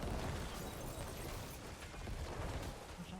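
Dense, continuous crackling bursts and booms from necromancer corpse explosions in the Diablo IV video game, loud and sustained throughout without any speech.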